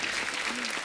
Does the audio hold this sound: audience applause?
yes